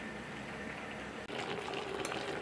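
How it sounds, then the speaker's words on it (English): Beef simmering in a pot of water for Nigerian stew, a steady dense bubbling hiss throughout with no voices. "We are boiling beef"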